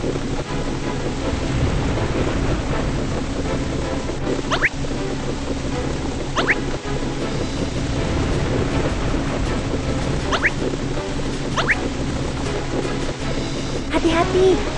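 Cartoon storm at sea: steady heavy rain and rumbling thunder with surf-like wash run throughout, topped by a few short rising whistles, loud and continuous under occasional speech.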